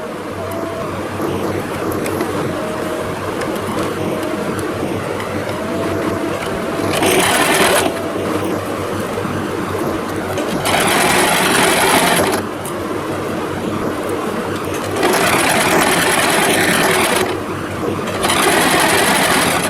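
Sewing machine stitching a fabric belt for a small doll outfit, running in bursts of steady whirring with short pauses, close and loud, no talk.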